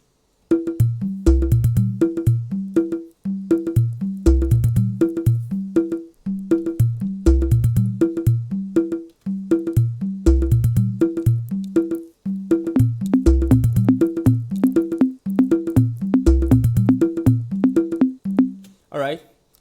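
An Ogene afrobeats groove layers a metallic bell pattern with tight conga hits and xylophone tones, repeating in steady looping bars with deep kick thumps, loud and upfront, pausing briefly between phrases.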